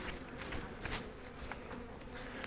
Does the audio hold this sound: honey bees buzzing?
yes